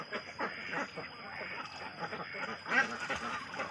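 Ducks of various breeds quack in rapid, overlapping calls nearby during early-morning egg collecting, a busy chattering flock heard fairly softly against faint background noise.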